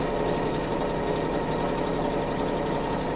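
Close, steady whir of a sewing machine stitching a shopper tote bag, running at an even fast pace throughout with no talking.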